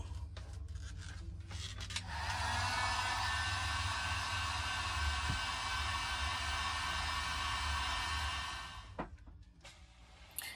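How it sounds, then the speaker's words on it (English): A boat bilge pump runs for about seven seconds, a steady close hiss-like whir that starts abruptly and stops, with faint handling noises before and after. "I'm just going to go ahead and manually activate the pump"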